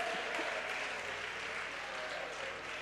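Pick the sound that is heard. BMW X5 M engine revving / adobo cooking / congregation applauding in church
congregation applauding in church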